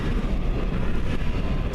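A CN freight train's distributed power locomotive rolls past nearby in Ladysmith, a loud steady rumble with a broad low roar and no break.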